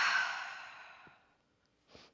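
A single long exhale during beginner yoga breathing, a soft breathy rush that starts strong and fades away over about a second, followed by quiet and then a brief second breath.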